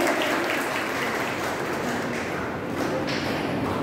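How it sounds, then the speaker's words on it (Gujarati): Audience applause for a student at an International Women's Day commerce college event, a steady dense wash of clapping that holds for a few seconds at constant loudness. "ગણગણાય તાળીઓ થઈ જાય વિદ્યાર્થિની માટે."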